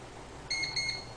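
An AirWolf air rifle's electronic shot counter gives two short, high-pitched beeps in quick succession. They are clear and close against faint background hiss.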